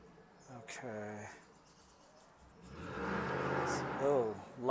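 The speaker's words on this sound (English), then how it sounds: "loud car on the road outside" A loud car passes on the road outside a home painting livestream. A broad rushing swell builds in the second half and fades away, with a voice speaking briefly before and after it.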